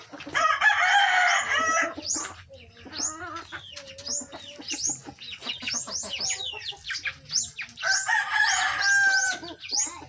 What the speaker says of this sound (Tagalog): Papakain po tayo sa ating mga alagang manok.